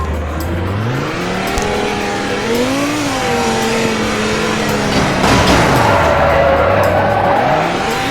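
Car engine in the Roblox junkyard game, a steady revving drone with rising and falling pitch sweeps as the car drives, continuous and fairly loud throughout.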